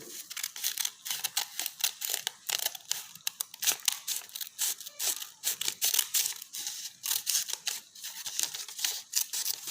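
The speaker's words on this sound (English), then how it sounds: "I am going to cut the smaller triangle." Scissors snipping through paper to cut out a small triangle for a school math lab activity, a rapid run of crisp cuts and rustles, close and fairly quiet, no talking.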